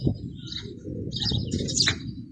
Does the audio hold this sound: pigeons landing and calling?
yes